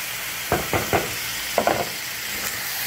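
Mutton being stirred with yogurt in a hot frying pan, a steady sizzle under a few distinct scraping strokes of the spoon in two quick bursts, close and fairly loud, with no talking.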